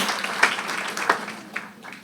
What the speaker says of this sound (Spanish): Dale un aplauso a Jesucristo, que es bueno ahora, es bueno.